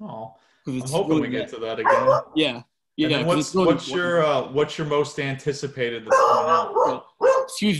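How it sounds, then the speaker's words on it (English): A pet dog barks and yips a few times in a home during a conversation, the short barks mixed in with continuous close talking from two people. "I don't know if you hear that's my dog."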